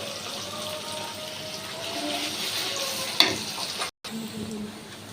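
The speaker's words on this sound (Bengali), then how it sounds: "দেখুন আমার পেস্টটা সুন্দর করে বাদামি কালার হয়ে ভাজা ভাজা হয়ে গিয়েছে" A roast masala paste frying in a pan, browning steadily with a continuous close sizzle and occasional stirring, plus a sharp clink near the end followed by a brief dropout.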